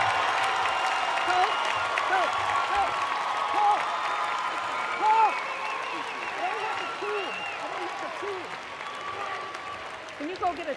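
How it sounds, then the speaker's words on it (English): Audience applause at a university School of Public Health spring commencement ceremony, sustained clapping from a large crowd lasting the whole stretch, with scattered voices and a few cheers mixed in. "Another round of applause for our Bachelors of Science students."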